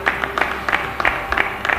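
A congregation at a church service claps in a quick, uneven series of sharp bursts, moderately close.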